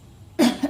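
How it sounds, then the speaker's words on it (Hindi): A single cough from a woman cooking at home during a change of season, with a sore throat; one sharp, close burst with a softer second catch just after, alone with no talk. "इस मौसम में खांसी हो ही जाती है"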